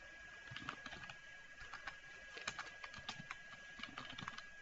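Quiet, close typing on a computer keyboard while entering an SQL query, irregular runs of soft key clicks with small pauses, alone and without talk.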